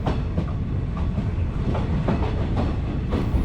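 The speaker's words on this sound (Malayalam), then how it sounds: "ഈ ട്രെയിൻ ഷൊർണൂരിലേക്കുള്ള പാസഞ്ചർ തന്നെയാണ്" A passenger train bound for Shoranur on the electrified Shoranur–Nilambur line rumbles past close by, its wheels clicking rhythmically over rail joints, loud and continuous with no talk.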